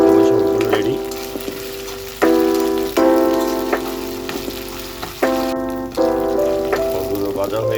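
Dried fish fries with onions in a steady, rain-like sizzle. Sustained ringing tones start abruptly and fade several times over the sizzle.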